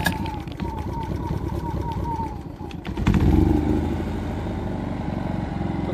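A Generac GP3000i inverter generator runs near a travel trailer, a steady rumbling engine drone with rhythmic clatter that rises in intensity partway through, with voices talking over it.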